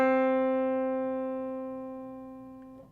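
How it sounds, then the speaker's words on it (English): Single piano note at middle C struck once, ringing close and clear with a rich stack of harmonics and a slow, steady decay over about three seconds, heard alone. "a piano playing middle C"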